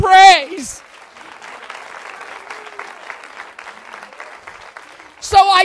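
A church congregation at a women's conference gives a round of clapping in praise, a moderate, steady patter of many hands between loud shouted voices at the start and end.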